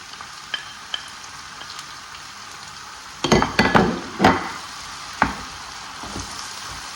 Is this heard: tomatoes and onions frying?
yes